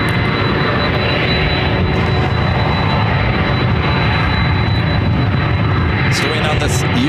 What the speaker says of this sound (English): It's another Cessna Supercargo Master FedEx feeder flight 7654, another 34-year-old aircraft.